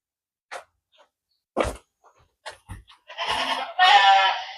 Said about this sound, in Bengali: ছাগলগুলো তো একবারে সেই সাইজের ভাই অনেক দামি